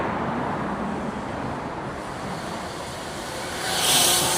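Steady roar of road traffic at about 55 mph streams past a bike lane squeezed between two lanes, a continuous broadband wash that grows louder near the end as a vehicle passes close by.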